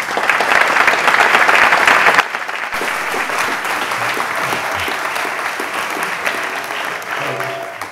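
Audience applause welcomes a lecturer at the Atheneum in Nantucket, a dense steady clatter of many hands that is loudest for the first two seconds, then continues slightly softer and sustained to the end, with no talking over it.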